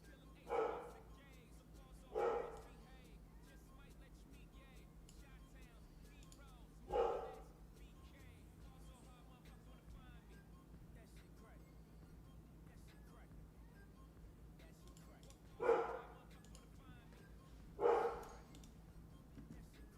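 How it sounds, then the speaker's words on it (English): A golden doodle barks somewhere nearby in single sharp woofs, five of them spaced irregularly over about twenty seconds against a quiet room background. "I have a golden doodle. He be barking at like nothing."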